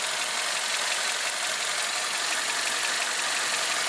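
A 1996 Toyota Corolla with the 4A-FE 1.6L engine idles in a steady, even broadband hum and hiss, heard close and constant without any talking, while a weird fuel smell problem is being checked.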